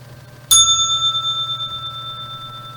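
A single bright bell strike rung to close a trading broadcast, a sharp metallic ding with a long ringing tone that slowly decays over nearly three seconds, heard alone.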